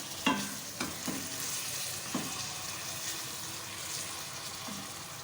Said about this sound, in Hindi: सारे मसाले की अच्छी तरह से भुनाई करें।